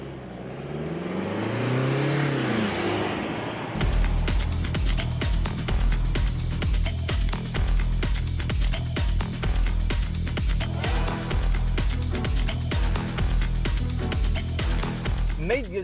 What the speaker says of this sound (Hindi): लेकिन गाड़ी चलाने में कैसी है, चलिए वो भी देख लेते हैं।